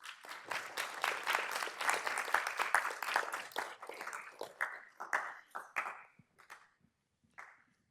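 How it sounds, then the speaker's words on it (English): An audience claps for guest speaker Luis Poggi at a university speaker series, a dense burst of applause that thins into scattered individual claps and fades out. "let's give Luis Poggi again another round of applause"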